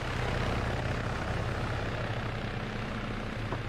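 A helicopter flies in the military video game ARMA, a dense, steady rotor and engine drone that holds at a constant loud level throughout with no voices over it.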